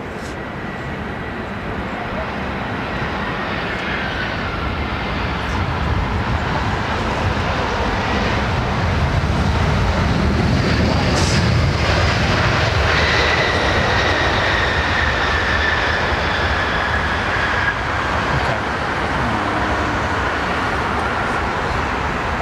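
A jet aircraft at London Heathrow Airport roars continuously in the distance, its broad rumble and whine slowly rising and falling as it passes.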